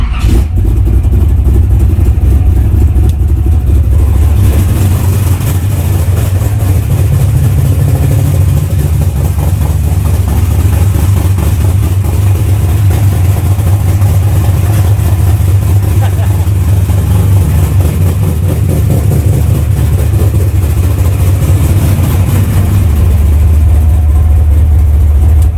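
A 1968 Camaro hot rod engine runs loud and close, a deep, continuous rumble that holds steady for the whole stretch with slight swells in intensity.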